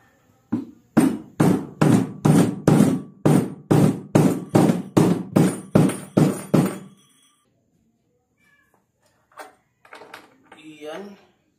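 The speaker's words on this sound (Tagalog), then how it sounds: "gamitan natin ng rubber mallet" A steady series of about a dozen firm rubber mallet taps at an even rhythm, followed by quiet and a few faint sounds.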